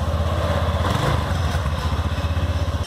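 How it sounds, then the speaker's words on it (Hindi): A 2018 TVS Ntorq 125 cc scooter engine idles steadily with a rapid, even putter, close and fairly loud, with no voices. "हम इसको स्टार्ट करते हैं, आप देख लें कुछ इस तरीके से साउंड है 125 cc का स्कूटर"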